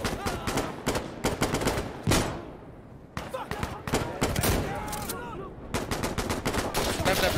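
Rapid gunfire in Insurgency Sandstorm, dense bursts of close, loud rifle shots crackling almost continuously with short pauses, while a voice talks faintly underneath.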